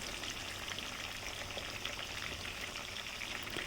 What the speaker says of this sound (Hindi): उसके बाद बहुत ही ध्यान के साथ हम इसको फ्लिप करेंगे और दूसरी साइड से भी इसका गोल्डन कलर आने तक फ्राई करेंगे